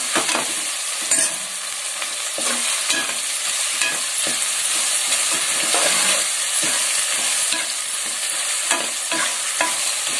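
Chicken frying with turmeric and chili powder, stirred in a pan for a spicy curry: loud, steady sizzling with rhythmic spatula scrapes and taps throughout, close by and with no voices.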